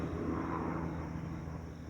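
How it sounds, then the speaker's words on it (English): Privately owned helicopters pass overhead in Georgia countryside, giving a steady low rotor and engine drone that holds even and moderately distant throughout. "nice looking helicopters like some rich guy would own"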